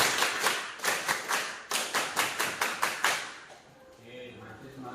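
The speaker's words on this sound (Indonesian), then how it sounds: "Pak Guru mau cek semangatnya dulu dengan bertepuk tangan, tepuk pramuka." A school class doing the rhythmic scout clap, many hands striking together in a tight repeating pattern of quick claps with regular short pauses, ending as a few voices are heard in the room.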